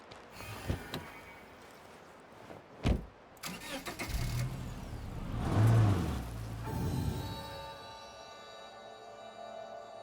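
A car engine in the video game State of Decay 2 starts up after repairs: a few clicks and a door thump, then the engine cranks, catches and rises to a rumble before settling into a steady idle, with no voices.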